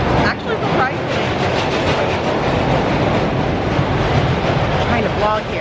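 The Scorpion roller coaster at Busch Gardens Tampa rumbles along its track with a continuous loud clattering roar and rattle of the train, heard nearby without speech.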